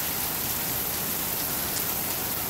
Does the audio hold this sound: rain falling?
yes